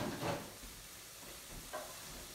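Two crushed garlic cloves sizzling in a pan for a chickpea and chorizo stew, a soft steady hiss with faint scraping as they are stirred gently, heard quietly and close.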